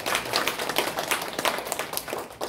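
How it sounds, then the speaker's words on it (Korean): An audience at a teachers' lecture in Gangwon gives a brief round of clapping, a fairly close patter of several hands. It is steady at first and thins toward the end. "박수 한번 주세요."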